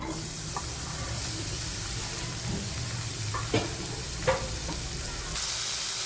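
Chopped onions dropped into a frying pan of a little hot coconut oil for prawn thokku give a steady soft sizzle, with a few faint clinks of a spoon against the pan.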